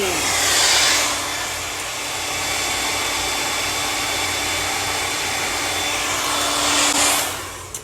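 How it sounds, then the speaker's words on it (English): A hair dryer blows on a closure wig with a steady, loud whooshing roar, its pitch shifting slightly as it moves, running continuously. "You hold the blow dryer on there for about 5 minutes"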